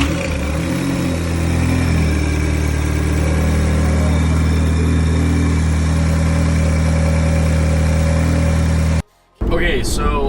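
An Audi TTS engine, just rebuilt with its manifolds refitted, runs at a steady, close idle for about nine seconds, then cuts to brief silence before a voice speaks.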